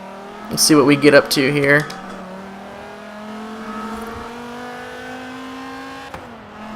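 In Forza Horizon 3, a tuned 1000+ horsepower Dodge Viper ACR pulls away from a standstill, its big engine droning in a steadily rising pitch before a brief shift near the end. Someone talks briefly over the start.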